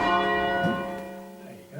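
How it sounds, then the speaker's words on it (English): Church bells rung in full-circle change ringing, set back at handstroke: a dense, ringing wash of overlapping bell strikes with long sustained harmonics that slowly decay, fairly loud and close, with no talk. "setting the bells back at handstroke is much easier"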